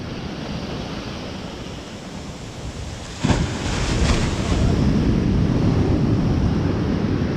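Surf breaks on a North Sea beach on the Holderness Coast during a sea fishing contest, a continuous heavy roar with a sharp crash midway and wind buffeting the microphone, loud and close.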